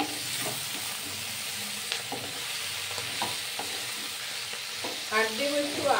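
Poi (Malabar spinach) greens with spices, chili powder and sugar stirred while frying in a pan: a soft continuous sizzle broken by repeated scraping strokes of a spatula, close and moderately quiet.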